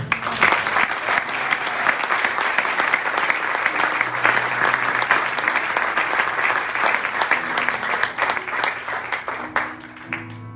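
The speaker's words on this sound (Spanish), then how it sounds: "démosle un aplauso al Señor" A church congregation applauds during a sermon on marriage, a full, lively burst of clapping from many people that holds steady for several seconds, with faint voices and tones underneath, then thins out near the end.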